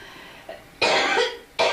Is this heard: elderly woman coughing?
yes